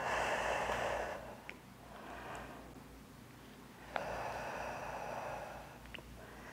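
Quiet, close breaths are drawn in and pushed out during an upper body workout for seniors: three or four airy, drawn-out inhales and exhales at an easy pace, with a few faint clicks in between.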